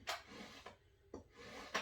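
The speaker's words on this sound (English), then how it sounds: "I'm just going to trim off this excess." Knife trimming the excess from a textured clay slab for a mug, a few short quiet scraping strokes with soft rasping drags between them, close and faint.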